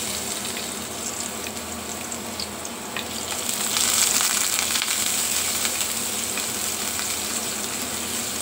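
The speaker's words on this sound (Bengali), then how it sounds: "তো এই যে তো রসুন থেতলানোগুলো আমি দিয়ে দিব।" Crushed garlic, two cloves, hits a hot pan for a mixed vegetable curry, giving a steady sizzle that swells louder and brighter about halfway through and then keeps hissing evenly, with no talk.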